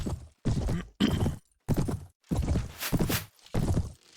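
Horse hooves in the video game Mount and Blade: Prophesy of Pendor, a run of roughly seven heavy, evenly spaced clip-clop bursts, close and loud, as the mount moves along with a couched lance.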